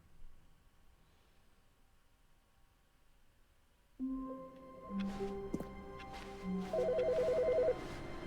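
Telephone ringing in The Stanley Parable: Ultra Deluxe, a quiet stretch followed by an electronic ringtone melody of repeating tones that swells louder toward the end, alone with no talk.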